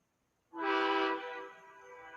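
A race-team truck hauler's horn blasts loudly and steadily at a motor speedway, a single sustained honk lasting about half a second before trailing into a softer lingering tone and background rumble.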